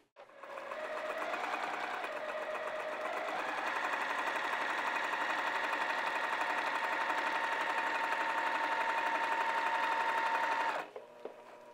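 A sewing machine runs one long continuous stitching pass along a flannel tunic seam, its steady motor whir holding close and loud for about ten seconds with a slight speed change early on, then stopping abruptly.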